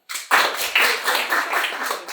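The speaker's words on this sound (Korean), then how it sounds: "큰 박수로 모시죠." Audience applause welcoming a ceramic artist to an artist talk on makgeolli-style bowls (막사발), a short burst of steady clapping from a room of listeners, loud and close, starting abruptly.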